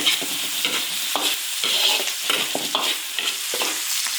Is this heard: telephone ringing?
no